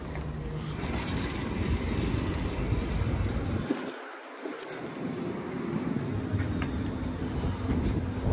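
Steady low rumble inside a moving Warsaw tram near the articulation joint, with rolling mechanical noise throughout, dipping briefly in the middle before resuming.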